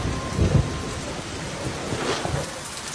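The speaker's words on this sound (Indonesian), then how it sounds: "saat itu hujan turun" Heavy rain pours steadily while a low thunder rumble rolls in near the start, part of a dramatic scene in a Thai drama.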